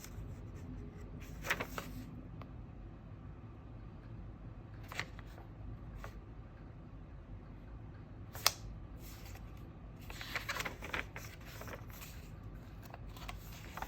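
Pages of a creative journal are flipped through, soft papery rustles and a few sharper page snaps scattered over quiet room tone, close and faint, with no speech.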